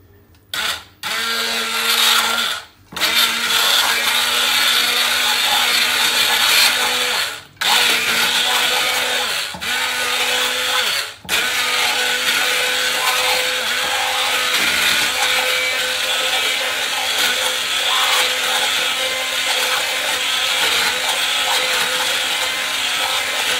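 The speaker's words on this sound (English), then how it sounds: "I'm just going to blend it and I'll show you now." A Prestige 200 watt blender runs loudly in several bursts, with brief stops between them as it grinds ingredients for mughalai mutter paneer without water, and no talking.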